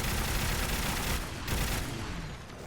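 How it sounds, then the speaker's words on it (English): A DShK heavy machine gun in Fallout 4 fires a sustained, dense automatic burst at a Deathclaw, loud and close, with rapid continuous reports that ease off near the end. "we shoot them so fast with so much damage that it puts down the Deathclaw no sweat"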